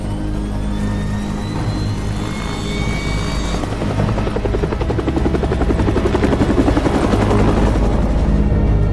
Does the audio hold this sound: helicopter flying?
yes